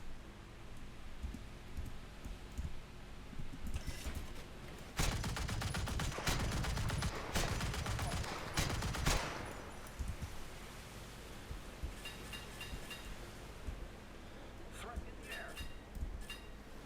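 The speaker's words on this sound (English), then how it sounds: "The single 15mm gun doesn't do too much damage, regardless of the ammunition type that you use" A single 15mm ship gun firing in War Thunder, bursts of rapid shots loud in the middle stretch over rushing naval ambience, with someone talking throughout.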